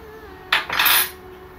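Spoon scraping and clinking in a pan while kesari is stirred, two quick metallic scrapes close by over quiet background hum.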